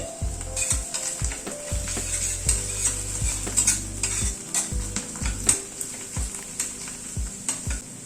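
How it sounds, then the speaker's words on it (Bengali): Onions fry with garlic paste in a pan, giving a steady sizzle under repeated scraping stirs of a spatula, with occasional clinks of metal on the pan and no talking. "পেঁয়াজটা একটু ভাজা হওয়ার পরে এখানে 4 কোয়ার মতো রসুন একটু পেস্ট করে নিয়েছি"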